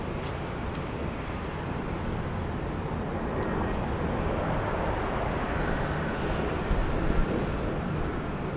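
Steady, broad roar of an airplane engine at Dallas Love Field airport, loud and continuous with a slight swell near the end, no talk over it.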